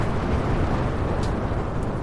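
A deep, roaring rumble of a rocket liftoff fills the sound with dense, steady low-end thunder and hiss, loud and unbroken throughout, with no voices.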